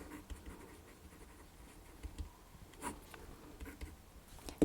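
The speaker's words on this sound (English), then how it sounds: "I'll write that down" Pen writing down an answer on paper during a differential equations exam-style worked problem, a quiet, faint scratching with soft strokes and small taps over low background noise.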